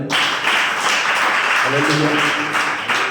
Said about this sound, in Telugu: చప్పట్లు కొడదామా?